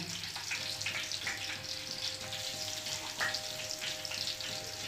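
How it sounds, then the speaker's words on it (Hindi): Bitter gourd (karela) frying over a high gas flame, a steady soft sizzle with occasional crackles and stirring, fairly quiet and without talk. "10 मिनट इन्हें फ्राई कर लेना है"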